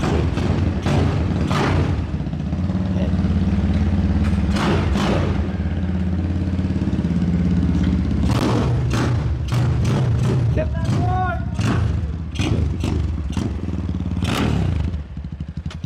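A Honda CBX Strada 250cc motorcycle fires up and settles into a steady, loud idle close by, its engine thrumming evenly with some mechanical clatter and clicks, while people talk nearby.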